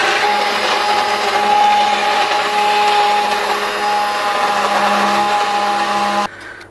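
A stick blender purees a simmered lentil soup with chipotles in a pot: a loud, steady whirring grind runs unbroken for about six seconds, then cuts off abruptly.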